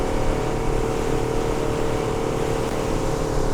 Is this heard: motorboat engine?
yes